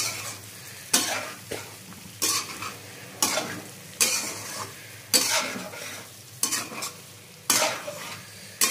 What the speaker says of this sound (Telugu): ఆయిల్ అంతా మనకి పైకి తేలుతుంది కదా, దీన్ని ఒకసారి ఇలా కలిపేసి